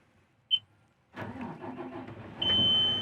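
A Bell articulated truck engine starts after a short beep: the starter cranks for about a second, then the diesel catches and settles into a loud, steady idle with a high tone over it.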